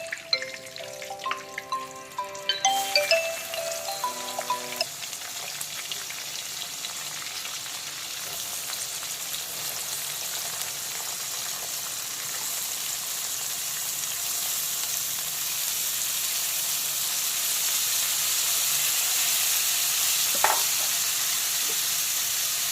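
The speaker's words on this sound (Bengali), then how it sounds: "এখন সবার প্রথমে পেঁয়াজ কুচিটাকে হালকা বাদামি কালার করে ভেজে নেব।" Chopped onions hit a hot pan for Kashmiri-style chicken rogan josh, with some clinking first and then a steady, broad sizzle that grows gradually louder over twenty seconds, punctuated by one sharp pop near the end.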